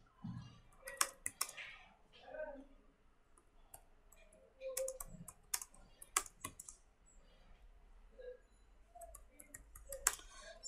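Typing on a computer keyboard, irregular bursts of close, crisp key clicks with pauses between them, loud clacks mixed with softer taps, while a quiet voice murmurs at times.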